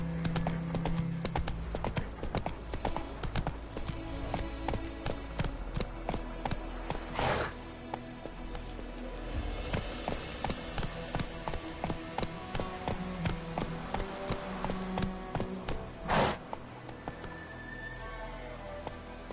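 Roach, the horse in The Witcher 3, gallops in a steady clip-clop rhythm of hoofbeats over a dense game soundscape, with a couple of sharp louder accents and a brief whinny-like call.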